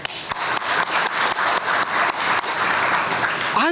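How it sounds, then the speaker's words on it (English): A graduation day audience gives a big round of applause, loud steady clapping with scattered sharper claps running throughout, with a brief voice at the very end. "let's give a big round of applause to this great people"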